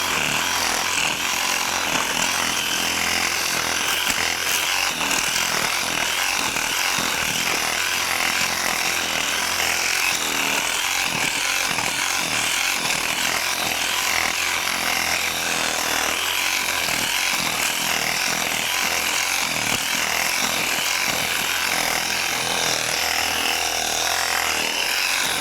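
A Milwaukee M18 FUEL Sawzall reciprocating saw cuts through wood with a loud, continuous buzzing rasp that holds steady for the whole stretch, up close and alone.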